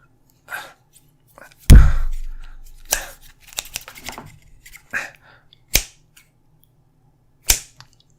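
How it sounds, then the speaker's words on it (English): Sharp, crisp scissor snips come one at a time with irregular pauses between them, close and loud against near silence, with a heavier thud early on. "These scissors aren't that effective on a person."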